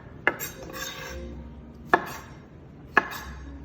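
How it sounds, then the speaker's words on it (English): A knife chops through tomatoes on a cutting board to cut out their centers, three sharp, separate knocks spaced about a second apart, close up, with no talking. "Just chopping those centers out."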